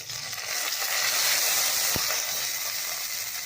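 Cloves, cinnamon, poppy seeds and curry leaves fry in hot oil for an egg gravy, giving a steady, close, loud sizzle and hiss with one brief low thump partway through and no talking.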